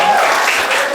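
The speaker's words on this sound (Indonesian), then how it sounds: "Tepuk tangan untuk kelas" A high school class applauds together in a classroom, a brief, loud burst of dense clapping with no speech over it.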